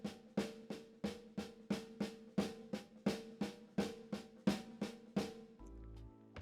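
Drumsticks strike a drum in a steady stream of paired strokes, a double stroke roll played without lifting the stick between pairs, about fifteen close, even hits that stop abruptly before a brief low tone.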